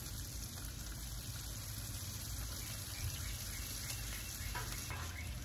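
Sausage and bacon frying on a Blackstone flat-top griddle in bacon grease, giving a steady, even hiss and crackle of sizzling fat that stays quiet and unbroken throughout, with no talking.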